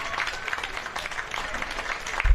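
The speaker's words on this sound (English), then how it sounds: "you can see the Bruins coming off the field now, clapping off their legion of fans" Steady applause from a crowd of fans as college rugby players from UCLA and Central Washington walk off the field, a continuous mid-level clatter of clapping with a brief louder thump near the end.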